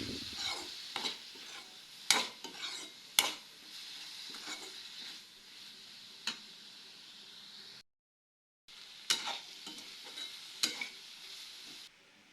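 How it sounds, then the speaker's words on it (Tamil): Grated coconut being stirred into sautéed ridge gourd in a pan for chutney: steady soft sizzling with repeated scraping and tapping of a spoon against the pan, briefly cut off partway through. "இந்த சமயத்தில் நாம் எடுத்து வச்சுக்கிற தேங்காய் துருவலை போட்டு கலந்து விட்டுக்கலாம்"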